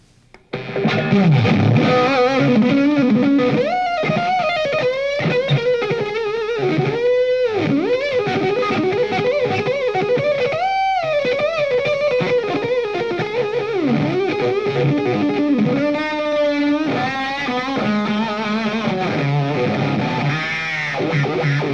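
Distorted electric guitar plays single-note licks with string bends, loud and continuous, the pitch sliding up and down with no talking.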